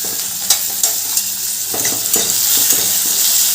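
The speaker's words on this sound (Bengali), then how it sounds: "এবার দিয়ে দিলাম কেটে রাখা গাজরগুলো গাজরগুলো এবার ভালো করে ভেজে নেব" Chopped carrots frying in hot mustard oil with salt while being stirred, a constant bright sizzle with occasional spoon taps and scrapes against the pan, close and steady.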